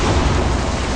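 Heavy rain pouring in the video game Middle-earth: Shadow of Mordor, a loud, dense, rumbling wash of sound with no voices over it.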